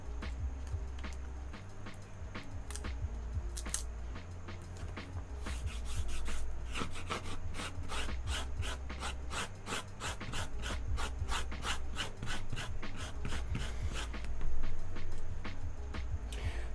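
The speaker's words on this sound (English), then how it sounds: "the reason I'm kind of scraping here with my fingernail" Fingernail scraping over a painted wood panel during painting, a close series of short rasping strokes, sparse at first, then in a quicker repeated run before slowing again.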